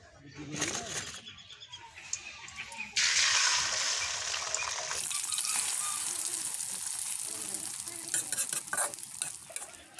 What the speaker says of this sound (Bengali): দেখতে পাচ্ছেন লুচি ভাজা হচ্ছে